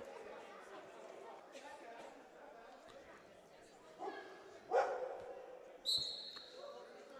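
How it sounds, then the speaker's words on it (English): A couple of sharp dog barks ring out over a murmuring crowd at a lacrosse game, a bit distant and spaced a second apart. "Don't know if you heard the barking, but we got our own lacrosse dog here"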